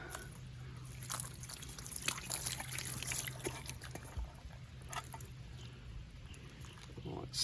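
Water rinses over collected creek material at a barred owl branch, a steady close trickle and splash running throughout, with faint background sounds.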